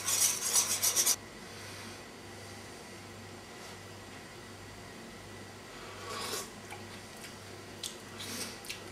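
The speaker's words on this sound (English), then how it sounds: "So let's mix this all up and taste that." A spoon scrapes and clinks against a pot as cheeseburger soup with beer, paprika and Worcestershire sauce is stirred, with a loud burst of scraping at the start, then quieter rubbing and occasional clinks over a low hum.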